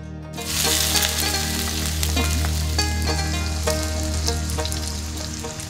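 Onions hit hot oil in a pan for beef alu ghati, a loud sizzle that starts abruptly and stays steady, with sharp crackles and pops over it.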